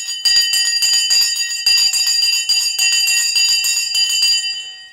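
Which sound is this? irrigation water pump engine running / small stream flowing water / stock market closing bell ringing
stock market closing bell ringing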